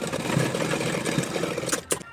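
A sewing machine runs a top stitch along a kurta neckline with a steady close mechanical whir of rapid stitching, then stops with a couple of clicks.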